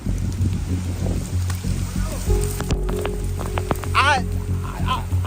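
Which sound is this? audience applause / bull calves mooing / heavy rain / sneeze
heavy rain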